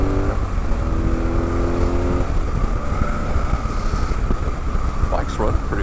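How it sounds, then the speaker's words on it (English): A motorcycle, fitted with new Progressive rear shocks, drones steadily while being ridden, its engine hum mixed with heavy wind rush at the microphone and a few brief higher squeaks near the end. "Bike's running pretty well today."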